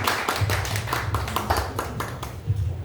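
Clapping from a seminar audience at a memorial exhibition event in Gwangju, distinct individual claps in an uneven rhythm rather than a dense wash, suggesting a modest crowd, with a low hum underneath and no speech.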